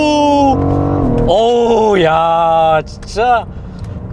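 A BMW M760Li V12 sedan accelerating hard: the engine note climbs in rising surges, loud and close from inside the cabin, then drops away, with a brief spoken exclamation.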